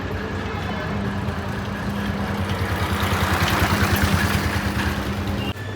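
A motorcycle that has just come back from warranty servicing at a repair shop runs with a steady, close engine drone throughout, with no talking.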